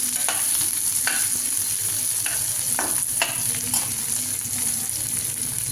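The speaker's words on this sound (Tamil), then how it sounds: "இதெல்லாம் கொஞ்சம் லைட்டாக வதக்கி ஒரு ஒரு நிமிஷத்துக்கு அப்படியே வதக்கி எடுத்துக்கலாம்" Fennel and spices sautéing in a pan for a chicken kola urundai dish, a steady close sizzle with scattered scraping stirs throughout and no talk.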